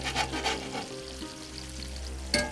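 Whole crappie fish sear in a pan over a wood stove, a steady close crackling sizzle with a low constant hum beneath and a sharper spatter flaring right at the end, no one talking.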